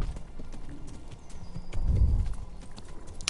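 Horse hooves clop rhythmically in a steady gallop in the video game Kingdom Come: Deliverance, with a heavier thudding burst midway, close and fairly quiet over faint background noise.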